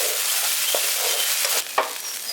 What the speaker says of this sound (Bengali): পেস্টটা দিয়ে দেওয়ার পর এটাকে হালকা একটুখানি করে ভেজে নিচ্ছি